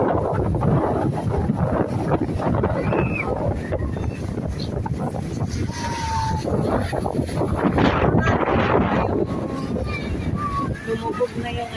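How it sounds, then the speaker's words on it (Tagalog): Wind gusts roar across a European seaside beach at dusk with bathers in the water, a steady broadband rush filling the whole stretch while a voice talks over it. "Hangin siya, pero ano? Dami pang naliligo."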